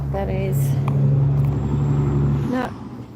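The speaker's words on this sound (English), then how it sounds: "No, it's a sawdust truck." A sawdust truck rumbles past nearby on a mountain road, its engine drone steady and loud before fading off, with brief squeals and hiss over it.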